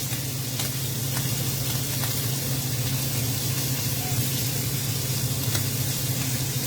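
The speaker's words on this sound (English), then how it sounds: "Trying to get a good sear here, guys." Pork ribs searing in a hot pan on a stovetop, a loud, steady sizzle running without pause, with a few faint clinks of a utensil and no talking.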